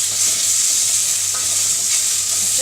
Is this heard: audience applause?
no